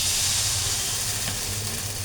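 Appam batter meets a hot pan and sets off a loud, continuous sizzle and hiss, held steady throughout with no talking.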